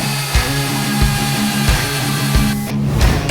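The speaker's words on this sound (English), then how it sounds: "ECO.80 magnetic drilling machine." A Euroboor ECO 80 magnetic drilling machine with a 1900-watt motor runs steadily, its loud motor hum holding throughout with brief rhythmic dips in load, and no talking.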